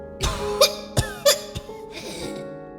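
Several short, sharp coughs voiced by a narrator reading a My Little Pony horror fanfiction aloud, bursting out close and loud in an uneven series with brief gaps between them.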